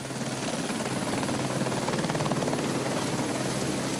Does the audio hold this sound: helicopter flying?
yes